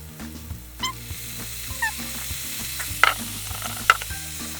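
Soy sauce and sesame oil hitting a hot pan of vegetable fried rice, a steady close sizzle with scraping stirs and a few sharp clinks of a utensil against the pan.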